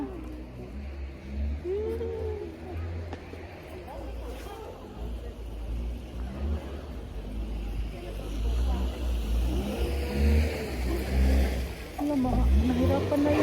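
A car engine revs and strains in deep snow during a record snowfall in Madrid, a low steady drone rising in bursts, with people talking over it throughout.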